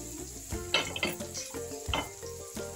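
Spices such as poppy seeds and coriander powder frying in a pan, a continuous sizzle with repeated scraping stirs and light clinks of the utensil against the pan.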